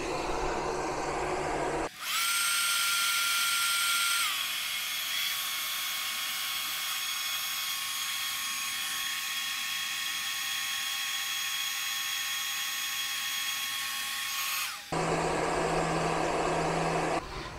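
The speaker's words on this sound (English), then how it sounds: "then we'll turn on the leaf blower" A leaf blower powered through a 12 V, 2000 W pure sine Ampeak inverter whines loudly and steadily for about thirteen seconds, starting abruptly and cutting off sharply, with a strong high-pitched motor tone and airy rush throughout.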